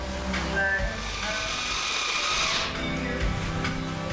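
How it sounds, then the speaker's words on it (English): A power drill drives a grain mill, whirring continuously with a grinding, churning hum that dips slightly in speed partway through. "You might be able to hear that I'm trying to slow down the drill a little bit"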